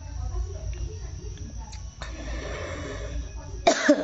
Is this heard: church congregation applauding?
no